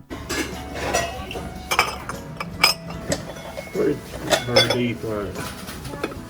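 Corningware casserole dishes with lids clink and clatter against each other and against cutlery while being handled in a shop, with scattered close knocks and a voice talking in the background.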